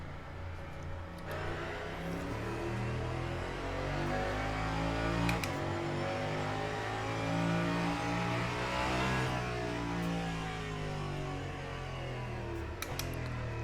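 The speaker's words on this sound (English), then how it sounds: "Yes, this car sounds like a tank." Le Mans Ultimate hypercar engine in the video game with a deep, rumbling, tank-like drone, steady and loud throughout with slight pitch swells and no talk.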